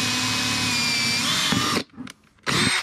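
A power drill whirs loudly and steadily for nearly two seconds while boring drainage holes through a plastic mop bucket used for container gardening, then stops abruptly and gives a short second burst.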